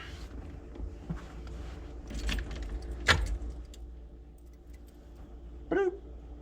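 Car keys jangle and clink for several seconds close by in an 1981 Corvette, with one sharp metallic hit midway and a short squeak near the end. Low engine or road rumble runs underneath.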